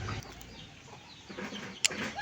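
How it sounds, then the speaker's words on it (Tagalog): A chicken clucking close by in a short run of soft clucks, with a sharp brief sound near the end. "May manok"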